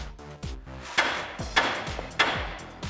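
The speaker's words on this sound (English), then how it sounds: "Now we can grab a hammer and start tapping on the side to dislodge the ball joint." A hammer taps metal repeatedly to dislodge a ball joint on a 2014-2018 Chevrolet Silverado 1500 front suspension, several sharp ringing strikes at a steady pace, close by, with a rattling clatter after each blow.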